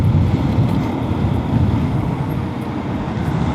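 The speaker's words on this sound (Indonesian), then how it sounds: "Wow, anginnya kencang juga nih." Strong wind roars steadily over the microphone during a motorbike ride through the Puncak hills between Bogor and Bandung, a loud continuous low buffeting rush with no voices.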